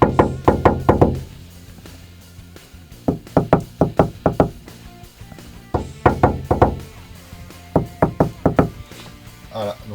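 Knuckles knock on a bare, uninsulated metal panel of a Volkswagen T4 van in clusters of quick raps, loud and resonant, separated by short pauses.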